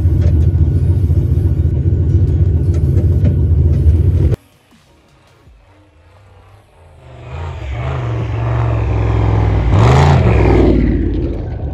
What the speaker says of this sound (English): So I'm going to pop her in four-wheel drive and go for a little scoot down the driveway.